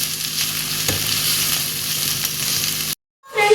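Chicken keema sizzles and fries in a pan as coriander leaves are stirred through it, a steady close hiss with a light scrape of the spoon, then a brief cut to silence before the frying resumes.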